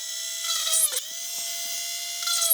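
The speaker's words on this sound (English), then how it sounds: "So now I use my drill," Electric drill boring holes into a PS4 Pro controller shell to fit rear paddles, a steady whine that dips briefly partway through before resuming, close and fairly loud with no talking.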